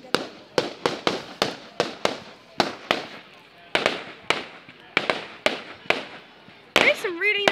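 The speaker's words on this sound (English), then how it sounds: "There's some really nice fireworks" Fireworks burst in a rapid series of sharp bangs at an outdoor display with a bonfire, roughly a dozen loud cracks spaced under a second apart, each trailing a crackle, with a whistling rocket near the end.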